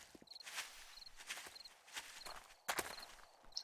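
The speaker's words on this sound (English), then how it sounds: "just listening to the footsteps now" Footsteps from the video game 7 Days to Die, heard as soft, uneven thuds spaced across a few seconds, with a brief louder scuffing burst near the end and faint repeating electronic beeps behind them.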